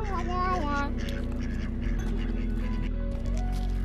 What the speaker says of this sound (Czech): Jsou tady kačenky?